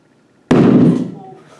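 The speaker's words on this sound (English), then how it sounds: "No, that was a hydrogen balloon." A hydrogen-filled balloon bursts with a single loud, sharp bang that cuts in from near silence, followed by a roaring decay and lingering echo close by.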